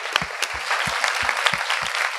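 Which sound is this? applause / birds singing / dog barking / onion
applause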